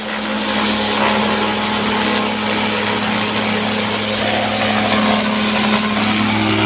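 A weed whacker string trimmer runs steadily nearby, a continuous loud, buzzing engine drone with a fairly even pitch throughout.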